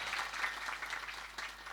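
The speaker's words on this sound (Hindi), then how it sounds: "एक बार अपने लिए ताली बजा दिया जाए कि हम अच्छा है।" An audience clapping at a Hindu religious discourse during a Ramcharitmanas recitation, a sustained round of many hands applauding at moderate distance, fairly soft and even throughout.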